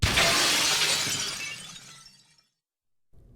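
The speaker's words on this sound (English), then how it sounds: "small pieces of glass shattering over the floor and flying off into the air" Glass shatters with a loud crash as a falling spotlight breaks, the bright burst of shards trailing off over about two seconds into silence before faint background sound returns.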